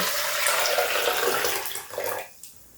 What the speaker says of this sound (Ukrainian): воду кип'ячу і охолоджую. І заливаю коріння.